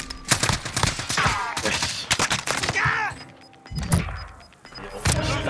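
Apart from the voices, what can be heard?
gunfire in video game Call of Duty Warzone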